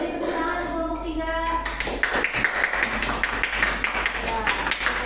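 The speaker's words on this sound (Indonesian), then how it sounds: "Beri tepuk tangan untuk kelompok 3" A classroom group bursts into applause for group 3 after a teacher's voice, dense overlapping claps from many students carrying on steadily for several seconds.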